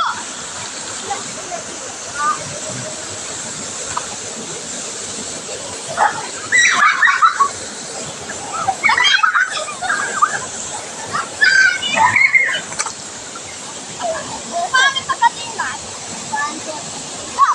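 A pet dog splashes and paddles through water beside a steady rushing stream or waterfall, with bursts of sloshing rising and falling over the constant flow while people talk nearby.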